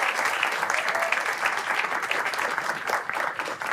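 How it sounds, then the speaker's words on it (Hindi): A live audience at a shayari poetry gathering claps for a performer, with dense, steady applause filling the room throughout and no break. "तालियां नहीं रुकनी चाहिए जब तक आर्टिस्ट स्टेज सुने"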